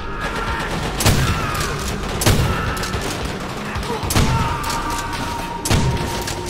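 Sustained gunfire from the Call of Duty World at War video game, a dense rattle of shots punctuated by four heavy booming blasts roughly every second and a half, loud and close throughout.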